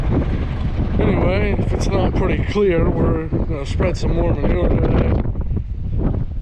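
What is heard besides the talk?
wind blowing outdoors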